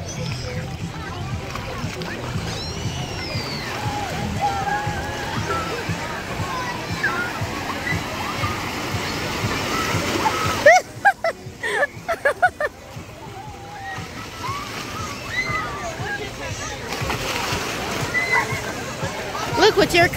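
Water sloshes and splashes continuously nearby, with a few sharper splashes midway, while people and someone talk over it.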